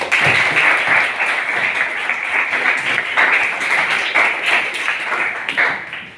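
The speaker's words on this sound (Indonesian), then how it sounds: "kita kasih applause buat Kim" A classroom of students applauds a classmate named Kim, dense steady clapping from many hands that continues for several seconds before tapering off at the end.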